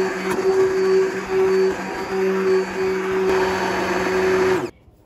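A blender purees homemade tomato sauce with basil, a steady loud motor whine with a faint rising pitch, running continuously for several seconds before stopping abruptly.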